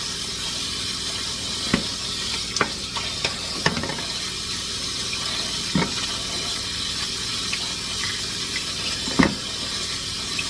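Tap water runs in a steady hiss while strawberries are washed, with occasional splashes and knocks of handling and no talking.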